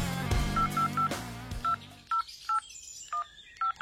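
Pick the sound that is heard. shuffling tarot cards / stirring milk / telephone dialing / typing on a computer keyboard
telephone dialing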